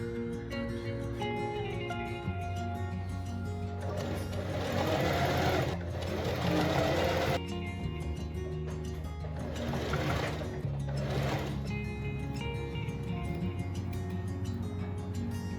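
A domestic sewing machine stitches a sleeve into the armhole with a French seam on an 1830s-style chemise, running steadily and close with a continuous whirring hum that surges louder in a few stretches.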